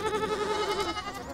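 Baby goats on a conservation grazing project bleat in a short, wavering cry, close and fairly clear, with no one speaking over it.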